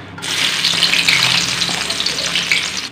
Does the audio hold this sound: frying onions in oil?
yes